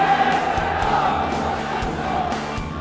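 A football crowd at an AC Milan versus Como match in the 1981-82 Italian league season, fans shouting angrily in a steady, dense roar that holds for the whole stretch with no clear break.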